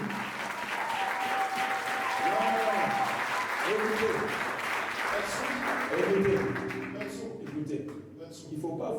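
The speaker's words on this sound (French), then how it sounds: "Est-ce qu'on peut acclamer pour Jésus maintenant?" A church congregation at an evangelical service applauds and cheers for Jesus, a loud sustained roar of clapping with shouting voices mixed in, thinning out toward the end.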